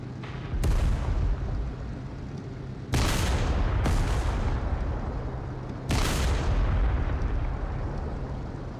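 A Tiger I tank gun fires at a Panther in a video game: four sharp, heavy cannon blasts, irregularly spaced, each with a long rumbling tail, over a constant low engine drone.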